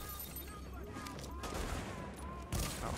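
Gunfire in the shooter game The Division, a steady bed of distant rattling shots and fusillade with a louder burst near the end, fairly faint overall.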